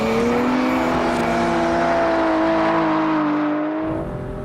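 An Aston Martin DBS engine revs hard and steadily for several seconds, a loud, sustained rising drone heard close up from the car, easing off slightly at the end with no talking.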